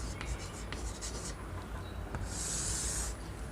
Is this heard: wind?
no